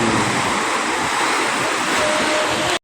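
Rough whitecap sea surf on Manila Bay rushes continuously up close, a broad hissing wash of breaking waves with wind buffeting, cutting off abruptly at the end.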